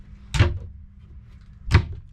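A hanging closet door in a houseboat stateroom opens, giving two sharp, close knocks about a second and a half apart, with quiet between them.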